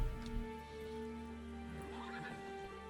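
A horse neighs in a video game, a clear whinny near the start over a steady droning game-music background, then fading into the ambient tones.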